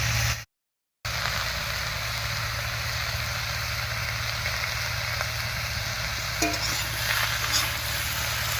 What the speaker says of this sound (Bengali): আর এই অবস্থায় সবজিগুলোকে বেশ একটু ভাজা ভাজা মতো করে নেবে